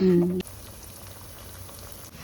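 Oil bubbles and sizzles steadily as onion fritters fry, a soft continuous crackle after a brief voice at the start.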